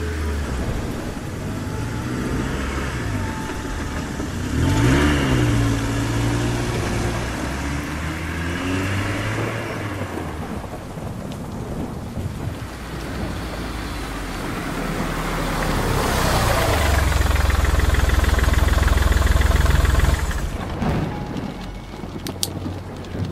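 Car engine effect in a Bengali horror audio drama set on a stormy night: a low, steady motor rumble that swells louder toward the end, mixed with rain-like hiss and gusty wind, with no voices.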